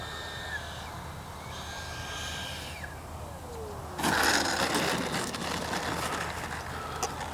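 A Freewing Red Hawk T1 70mm electric ducted-fan RC jet whines steadily overhead, its pitch sliding downward, then a louder broadband roar and rush kicks in partway through as it passes near, set against steady outdoor background noise.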